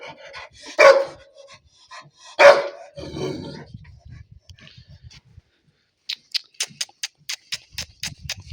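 In a Tehri Garhwal village in Uttarakhand, a dog lets out two loud, close barks followed by quieter grumbling, then a run of sharp rhythmic clicks or taps.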